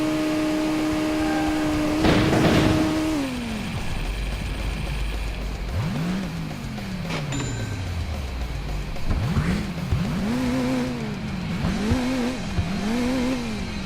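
Car engine in the Crash Time II video game revs up and down repeatedly through several gear shifts, with a burst of tire squeal and crash noise early on, loud and continuous without any talking.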